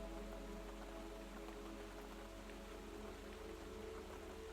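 Steady, soft rain falling at night around a pottery studio, a continuous even patter with a low constant hum underneath and no voices.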